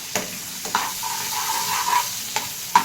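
Onion sautéing in oil with turmeric and garlic, a steady close sizzle broken by a few spatula scrapes against the pan.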